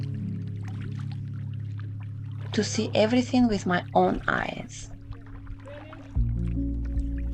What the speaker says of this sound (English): I'm starting my kayak journey down the Ocklawaha River